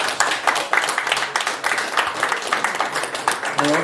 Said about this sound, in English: Give them a round of applause there, lads, come on.